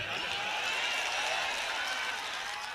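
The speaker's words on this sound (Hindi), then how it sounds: "अरे ताली वाली बजा दे भाई" An audience at a mushaira poetry recital in Pratapgarh applauds. The clapping is dense and sustained, with steady crowd noise throughout the short burst.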